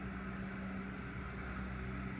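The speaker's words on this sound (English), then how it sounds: "I feel like a snowplow is coming through" A snowplow passes outside, a continuous low engine rumble and broad scraping roar heard from indoors, steady and fairly faint, without talk.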